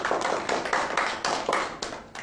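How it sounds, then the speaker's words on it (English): A class of students claps for a classmate's group, about a dozen uneven bursts of hand claps over two seconds, close and fairly loud, with no talking. "Now, first group, please clap for Hakisha's group."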